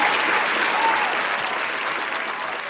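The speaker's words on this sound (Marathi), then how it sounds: "एकदा जोरदार टाळ्या झाल्या पाहिजे मॅडमसाठी" Audience applause at a live comedy stage show, a dense, steady burst of clapping from a large crowd that holds strong throughout and tapers only slightly at the end, with no talking over it.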